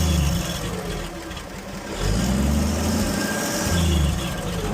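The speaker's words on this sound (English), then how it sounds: "Give her a little bit of a rev" A 1962 Chevy Biscayne's 235 inline-six, freshly valve-adjusted, idles steadily, then revs up around two seconds in and holds a fuller, higher pitch before settling, alone and close.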